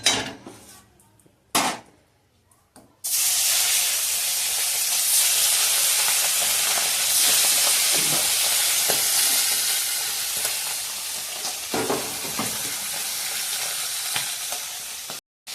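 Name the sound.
bhola fish frying in hot oil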